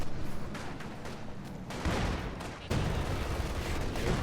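Artillery barrage in a tabletop-style war video game, a sustained rumbling roll of blasts and gunfire that swells into two heavier surges.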